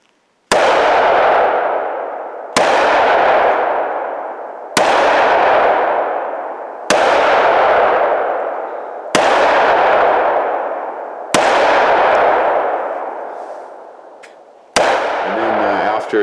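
A series of seven loud, evenly spaced gunshots from a handgun, each a sharp crack with a long decaying tail, fired roughly every two seconds, with a faint voice near the end.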